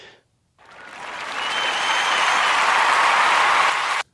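Audience clapping swells after a short pause into a dense, sustained round of applause that holds steady, then cuts off abruptly.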